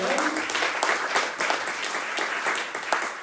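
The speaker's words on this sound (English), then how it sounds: "Round of applause for Father Sam." An audience at the Cristosal 2024 evening gathering claps continuously for about three seconds, a dense, even roar of many hands with no voices over it.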